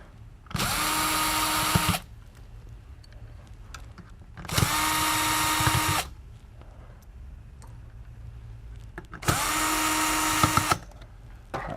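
A power drill backs out mounting screws from a MidNite Solar Classic charge controller power board, three separate loud whirring runs of about a second and a half each, with quiet pauses between them.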